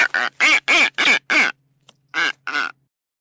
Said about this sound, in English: Fulmer.